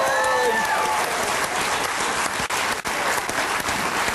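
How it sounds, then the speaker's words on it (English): Audience applause fills the room, steady and dense clapping throughout, with a brief voice-like tone near the start. "Give her a round of applause, ladies and gentlemen"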